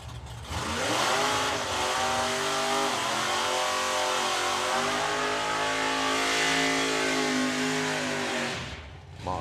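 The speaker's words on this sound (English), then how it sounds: "Martin with a big old burnout there with the Supra" A Toyota Supra drag car does a big burnout at a drag racing event, its engine screaming at high revs with sweeping harmonic tones that rise and hold, loud and close, before cutting off near the end.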